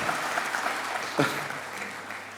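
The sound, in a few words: audience applause for graduates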